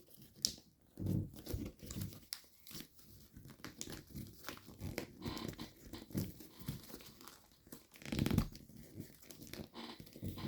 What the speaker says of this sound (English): you can swivel fold both sides down